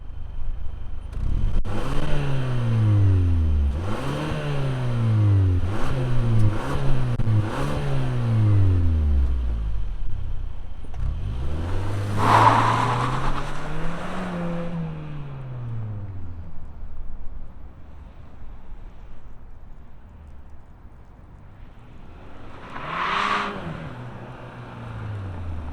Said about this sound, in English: let's fire up this four banger and hear what it sounds like